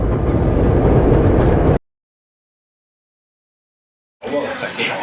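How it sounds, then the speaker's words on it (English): A loud, steady rumble of a moving train ride at Efteling theme park in Kaatsheuvel, Netherlands, for a couple of seconds, then silence, followed by a quieter stretch of mixed ambient noise. "We managed to get a train ride in."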